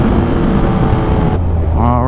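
A Kawasaki Ninja H2 motorcycle engine revs hard and loud up close, then a quick-shifter gear change cuts in and the engine pitch climbs again as the bike accelerates.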